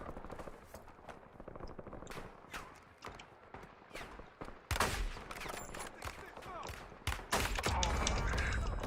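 Strafing gunfire in a Warzone match, with rapid bursts of automatic fire and scattered shots that grow louder and denser toward the end, and speech in places.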